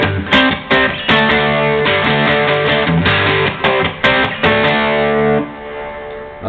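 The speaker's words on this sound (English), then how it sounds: "A DS1 Boss distortion." Loud, gritty chords from an electric guitar through a Boss DS-1 distortion pedal, strummed in bursts and rhythmic stabs with scratchy pick attacks, ending on a sustained chord that fades.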